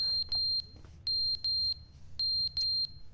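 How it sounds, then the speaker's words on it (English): Fire alarm in The Stanley Parable video game, sounding as repeated sharp electronic beeps in short bursts of two, evenly spaced, clear over a faint low background hum. "What is that beeping? Oh, it's a fire alarm."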